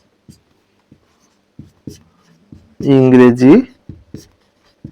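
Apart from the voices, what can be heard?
writing on a board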